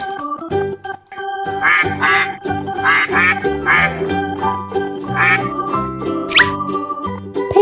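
Toy duck sound effect giving a run of loud, nasal quacks in quick succession, close and playful, with a brief squeaky rising call near the end.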